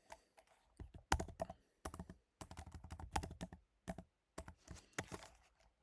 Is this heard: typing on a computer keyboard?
yes